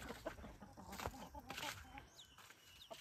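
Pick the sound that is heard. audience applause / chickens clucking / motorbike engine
chickens clucking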